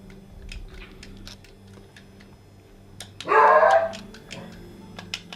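Dogs bark indoors in one loud, brief burst of several overlapping barks, heard over a steady ticking, clicking background.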